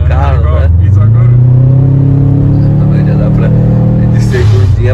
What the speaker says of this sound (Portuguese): Segundinha pra terceirinha já dá pra sentir a turbininha vindo mais forte